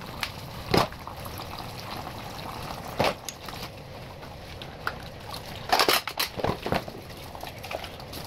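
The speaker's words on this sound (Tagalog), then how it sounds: "maglilinis naman ako ng aming mga tubigan" Water splashing and pouring while water bottles are rinsed and washed in a home kitchen, with a few brief bursts of gushing over a quiet trickle, close by and with no talking.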